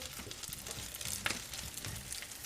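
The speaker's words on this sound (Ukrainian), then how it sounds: "Поступово намагаємося обсмажити з усіх боків е, ці крокети" Meat croquettes sizzle and crackle steadily in a frying pan, a continuous close hiss with small pops and a faint scrape as they are turned.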